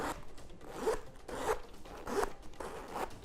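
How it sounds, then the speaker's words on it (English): The zipper on a Louis Vuitton Pochette Metis bag is pulled back and forth in several rasping strokes, close and fairly quiet, with a steady rhythm and no voices. "And I want you to hear the zipper"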